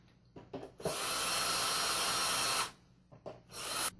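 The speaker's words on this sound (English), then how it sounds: "let's go ahead and remove those 2 screws in the back" Small electric screwdriver whirring to remove two screws from the back of a digital plaque, one sustained close buzz of nearly two seconds, then a shorter burst after a few faint clicks and taps.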